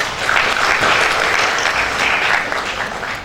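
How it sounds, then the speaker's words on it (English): Audience claps after a keynote presentation at a conference session, a dense steady wash of applause from a crowd that holds for about three seconds before beginning to thin slightly. "Let's give him a big applause."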